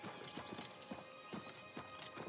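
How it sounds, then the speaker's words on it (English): A white horse in the video game The Elder Scrolls IV: Oblivion clip-clops steadily at a walking pace, fairly quiet, with no talking over them. "This white horse is awesome"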